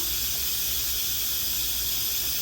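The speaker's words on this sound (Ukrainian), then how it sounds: "в мене в мультиварці приготувалося. Так, випускаю пару." Steam vents from a multicooker in a loud, steady, close hiss that stays even and unbroken throughout.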